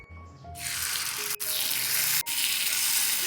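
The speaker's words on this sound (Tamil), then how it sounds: "இப்போ பணியாரம் ஊற்றிக்கலாம்." Paniyaram batter poured into hot oil in a paniyaram pan, giving a loud, steady sizzle that starts abruptly and keeps going, broken by two brief pauses.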